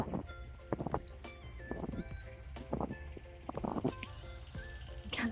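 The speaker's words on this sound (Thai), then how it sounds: "มีเสียงรถแท็กเตอร์มา" A small tractor drives past through snow, its low engine hum steady and fairly close, with scattered louder bursts of noise along the way.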